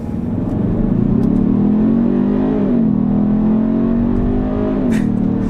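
A 2022 Kia Stinger GT-Line with its 2.5-liter turbocharged four-cylinder pulls hard in sport mode on a back road, the loud engine drone rising steadily in pitch, easing briefly as it shifts, then climbing again.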